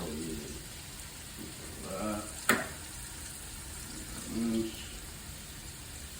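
Onions fry for chili in a pot with a soft, steady sizzle, broken by a brief clink of a utensil and a few stirring sounds.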